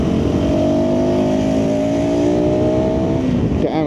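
A KTM 390 Adventure 350cc motorcycle engine revs hard and loud while riding through traffic, its pitch climbing steadily under heavy wind roar, then easing off as a gear shifts near the end.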